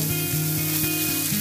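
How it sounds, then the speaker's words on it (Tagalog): Onion and garlic sautéing in a pan for minced pork: a steady, close hiss of oil sizzling, with a soft periodic hum pulsing underneath about every quarter second. "Igisa natin yung sibuyas."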